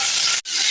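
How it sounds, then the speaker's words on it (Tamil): Onion sautéing in oil with curry leaves and green chili, a bright continuous sizzle up close, briefly cut to silence for an instant before resuming. "சேர்த்து நல்லா வதக்கிக்கலாம்"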